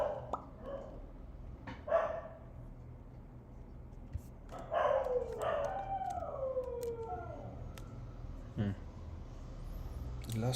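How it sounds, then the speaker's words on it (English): Several dogs bark in the background, with scattered yips and a drawn-out howling run, over steady room hum and occasional nearby clicks. "Crazy dogs in the background."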